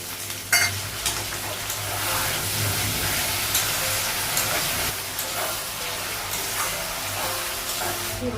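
Potatoes and spices sizzle steadily in a hot pan while being stirred, with a continuous loud frying hiss and occasional scraping bursts, and no voices.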